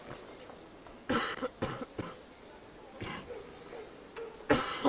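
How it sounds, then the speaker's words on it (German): A man coughs several times in separate harsh bursts, a pair of close coughs followed by more spaced out, with quiet throat sounds between them, heard close and fairly loud. "ich muss mal kurz husten."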